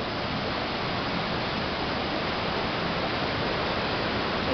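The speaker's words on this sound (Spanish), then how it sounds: "Siguen bajando más palos." A rushing flooded river, the Caoní, swollen and carrying branches and logs, gives a loud, unbroken roar of turbulent water that holds steady and close the whole time, with no voices.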